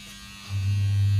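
An electric household grinder switches on to grind chickpeas into flour. A loud, steady low motor hum kicks in after about half a second and holds close by.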